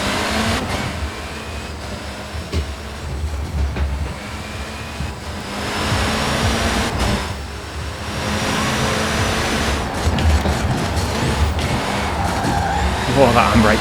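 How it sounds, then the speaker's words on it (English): Arcade car in Forza Horizon 4 braking into corners then swinging round on the handbrake, with continuous engine roar, tyre scrub and brief skids; a voice talks throughout. "We'll try braking with the actual brake before we get to the corners, then we'll use the handbrake to go around the corners."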